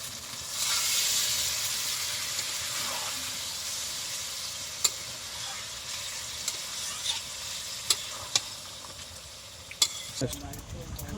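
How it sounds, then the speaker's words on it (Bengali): Water poured into a pan of chicken curry cooking on the stove gives a steady broad hiss and sizzle over about ten seconds, with a few sharp clinks of a utensil against the pan near the end. "এবারে জল ঢেলে দেবো।"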